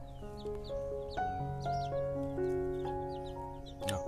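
Chicks lying out in the morning sun at a nursery pen give a steady stream of bright, overlapping peeps and chirps. The sound is close and continuous, with a few sharper calls standing out.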